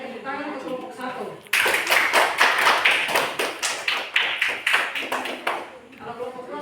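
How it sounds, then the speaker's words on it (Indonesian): A classroom group of elementary students claps for a few seconds, brisk uneven hand claps close by, with a teacher's voice before and after. "Ada tepuk tangan untuk kelompok 1."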